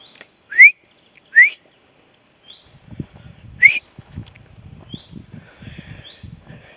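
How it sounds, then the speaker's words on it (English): Bird calls on a woodland walk at Rowberrow Warren in May: three loud, rising whistled notes ring out near, then fainter whistles follow over footsteps crunching and rustling on the track. "I wonder what sort of bird that is making that noise."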